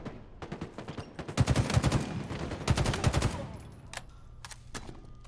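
Rapid gunfire from the video game Halo during an esports cup playoff match, dense bursts of shots and automatic fire up close, with a commentator talking over it.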